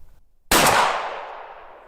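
A single loud, close shotgun blast fired outdoors while hunting birds on a bog, an abrupt crack followed by a long decaying rumble.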